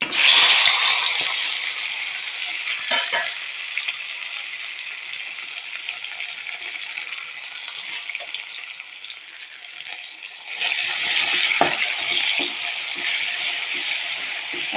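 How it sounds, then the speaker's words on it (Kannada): Drumstick leaves, tomato, onion and green chili frying in oil after popped mustard seeds, a steady broadband sizzle with occasional stirring clatter, close and moderately loud, with no talking. "ಅದು ಸ್ವಲ್ಪ ಎಣ್ಣೆಯಲ್ಲಿ ಫ್ರೈ ಆಗಲಿ"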